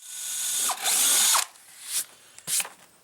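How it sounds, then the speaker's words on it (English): Power drill boring holes through straps for a homemade trapping basket: a close, loud whine running for about a second, then shorter on-off bursts as the bit spins up and stops. "we're going to drill two holes 2 inches apart right here"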